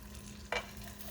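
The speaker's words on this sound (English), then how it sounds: "I'm going to slide the eggs right in gently." Eggs slid gently into a hot frying pan of melted butter give a short, soft sizzle burst over quiet background hiss.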